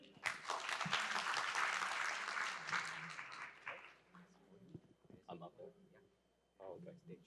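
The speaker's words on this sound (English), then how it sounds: "掌声欢迎" Audience applause welcoming a keynote speaker at a CDP conference, a dense burst of clapping for about three seconds that fades out as voices begin talking.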